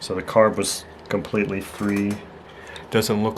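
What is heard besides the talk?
No distinct noise like a dog, phone or traffic.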